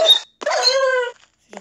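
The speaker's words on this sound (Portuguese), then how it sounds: "Um cachorro aqui." Dog in the video game Minecraft, a few close, loud yipping barks and a whine in quick bursts with short gaps between.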